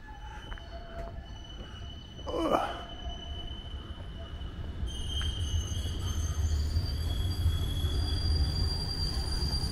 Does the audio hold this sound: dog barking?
no